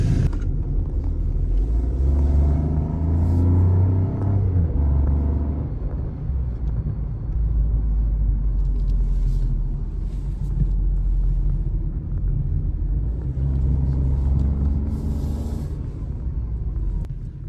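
A small Opel car engine hums steadily from inside the cabin while driving, a constant low drone with road rumble and no talking.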